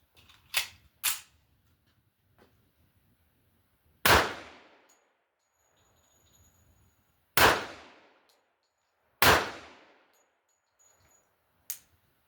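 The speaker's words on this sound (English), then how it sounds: "We're going to shoot a little bit more to confirm and make sure we can get on target." Five sharp gunshots from a 1911 pistol at outdoor target practice, two quick ones close together, then three spaced single shots a few seconds apart, each loud and near with a short ringing decay.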